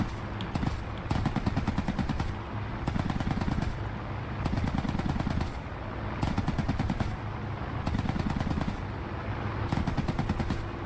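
Sustained bursts of machine-gun fire in the combat game War Thunder, loud and dense, broken by short pauses roughly every two seconds, with no voices.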